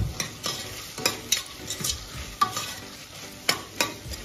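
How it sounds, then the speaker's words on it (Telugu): Cut potato pieces are stirred into a pot of pulao, with repeated scraping and clinking of a spoon against the pot over a light sizzle, close and steady with no talk. "కట్ చేసుకున్న పొటాటోని కూడా యాడ్ చేసేసుకుందాం."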